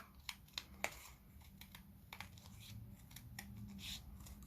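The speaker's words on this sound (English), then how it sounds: "take the scissors and chop" Several quick snipping cuts of scissors through paper, crisp and close, with sharp clicks early on followed by softer continuous cutting and rustling.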